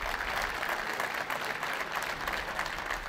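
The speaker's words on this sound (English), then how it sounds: "Approximately 90 prisoners warmly welcomed him with applause." About ninety prison inmates at Poggio Reale in Naples applaud Pope Francis, a steady dense patter of clapping from a crowd indoors, held at an even level throughout.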